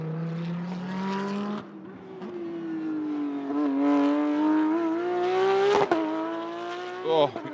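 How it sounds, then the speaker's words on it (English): A Porsche Carrera Cup race car at the Sepang 12-hour endurance race, its engine droning and rising steadily in pitch with sharp crackles near the end, close and loud throughout. "Oh, we get to hear the crackling of our GTC Sol Carrera Cup car, or the Porsche Cup car"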